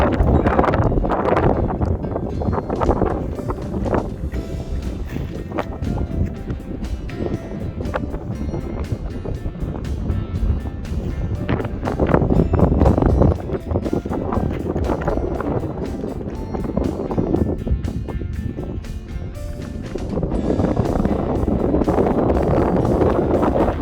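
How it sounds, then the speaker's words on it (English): Strong gusting wind buffets the microphone on the clear, overcast summit of Ben Wyvis near Inverness, a loud continuous roar surging and easing in waves with no other sounds. "It's a bit windy to be hanging around"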